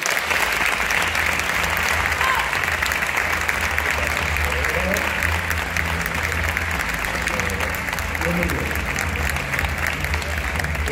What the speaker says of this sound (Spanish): Por favor, un fuerte aplauso para el gran Rodrigo Cortés.